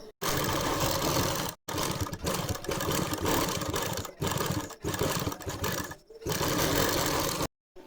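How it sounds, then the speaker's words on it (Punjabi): Sewing machine stitching the folded-in extra fabric at a shirt's neckline, a dense, steady mechanical whir running in long bursts broken by short abrupt stops, close and fairly loud. "ਐਕਸਟਰਾ ਜਿਹੜਾ ਫੈਬਰਿਕ ਆ ਉਹਨੂੰ ਅੰਦਰ ਵਾਲੇ ਪਾਸੇ ਫੋਲਡ ਕਰਕੇ ਸਿਲਾਈ ਲਗਾਵਾਂਗੇ"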